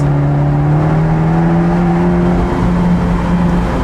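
Abarth 124 Spider with its 1.4 engine and exhaust accelerating from inside the open-top convertible, a loud continuous droning note that rises slowly and holds for several seconds.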